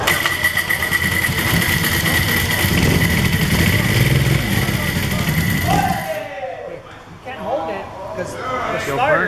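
A diesel engine cranks and fires up, loud and rough for several seconds, then drops away briefly before rumbling back, with people talking over it.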